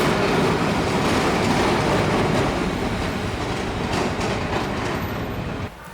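A Milan metro train rumbles along the rails with a steady roar and faint clicking, loud and close, easing slightly near the end.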